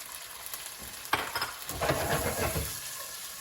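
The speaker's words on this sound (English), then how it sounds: "sizzling away right there. It's a really small amount of oil, don't worry about it." Tomato pieces sizzle and crackle in a small amount of hot oil in a pan for a breakfast pasta dish, a close, bright frying hiss that swells as they hit the oil and are stirred.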